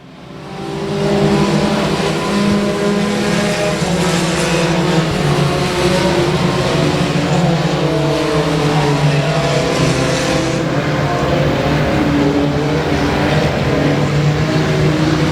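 Race cars roar around the oval at Rose Bowl Speedway at night, a loud continuous engine howl that swells and shifts as the pack passes, with no talk over it.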